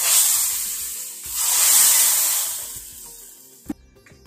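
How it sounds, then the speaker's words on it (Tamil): Cumin rasam is tempered in hot oil with mustard seeds and dried red chillies, giving two strong bursts of hissing sizzle that fade to a soft crackle, followed by a sharp clink at the end. "ஜீரக ரசத்தை தாளிக்கிறோம்."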